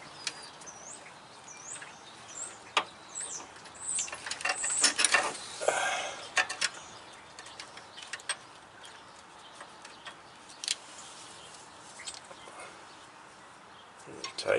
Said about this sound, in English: I'm using a line wrench or a flare nut wrench.